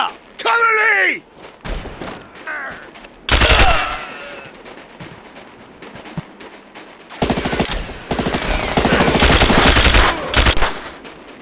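Gunfire from the SAS: Secure Tomorrow video game, with bursts of automatic weapon fire alternating with pauses and shouted voices, then a long, loud stretch of rapid machine-gun fire near the end.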